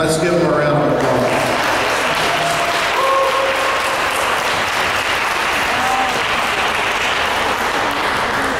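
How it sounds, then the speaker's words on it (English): Sustained applause from an audience at a sixth-grade awards ceremony honoring straight-A students, a dense, steady wash of clapping that fills the room and follows a brief spoken line. "let's give them a round of applause"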